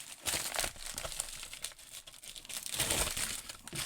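Crinkly plastic packaging around a VDK Strix knife rustles and crackles in steady, close bursts, swelling louder near the end, with no talk.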